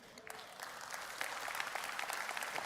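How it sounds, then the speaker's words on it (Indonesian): Applause from a church congregation, clapping rising from a few scattered hands into dense, sustained clapping across the room, moderately loud and continuing to the end. "ini pasti ini sebagian besar peserta Morning with Jesus dari kebaktian ini karena semuanya tepuk tangan"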